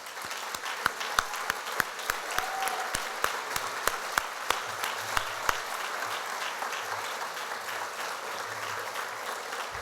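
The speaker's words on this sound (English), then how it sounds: "let us rain applause on you" Audience applause for city directors standing at a State of the City luncheon, a steady wash of many hands clapping with a few sharper individual claps standing out, moderately distant and continuous throughout.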